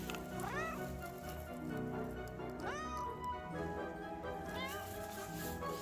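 A cat meows several times in drawn-out, rising cries, close and clear, over faint background voices and low ambient noise.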